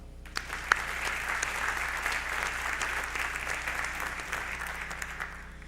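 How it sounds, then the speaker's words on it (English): An audience at a spring sports awards ceremony applauds an honoree named Ron: steady, dense clapping from many hands, held evenly for several seconds at a moderate distance, with no voices over it. "So let's give a round of applause for Ron."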